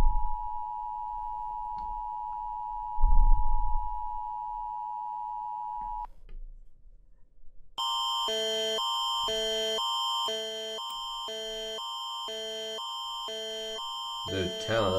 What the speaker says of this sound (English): Emergency alarm system.